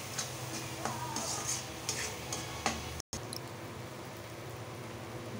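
Spices and potatoes being stirred and fried in ghee in a pan for potato masrom, a steady sizzle with scraping and clinking of the spoon against the pan throughout, briefly cut out near the middle.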